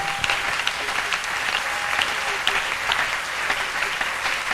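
A congregation at a prayer retreat claps loudly and continuously, a dense, lively applause with faint voices mixed in.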